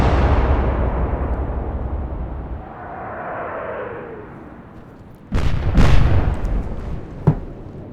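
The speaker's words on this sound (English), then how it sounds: "Let's go back to the Prince of Wales so we can see these lots of guns fire." Heavy naval guns of the battleship Prince of Wales fire in the Atlantic Fleet game, several loud booming blasts arriving in a close cluster after a fading rumble, with one sharp extra crack near the end.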